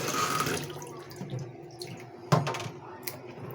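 Pieces of raw meat are rinsed under a running kitchen tap, with splashing water and irregular wet clunks as the meat is handled in a sink, close and fairly loud.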